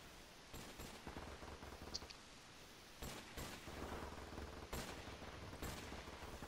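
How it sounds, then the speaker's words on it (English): Gunfire rattles in Modern Warfare Remastered Prop Hunt as scattered bursts and single shots, fairly faint and somewhat distant, recurring every second or so over a low background rumble. "Dude, they're shooting all around me."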